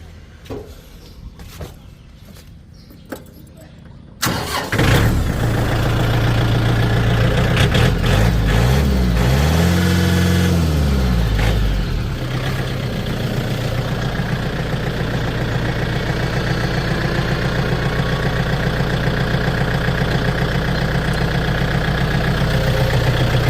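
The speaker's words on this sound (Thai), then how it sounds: "มาฟังเสียงเครื่องยนต์กันนิดนึง" A few faint knocks, then the diesel engine of a 2018 Yanmar EF514T tractor starts and settles into a loud, steady idle rumble that continues throughout, briefly revving partway.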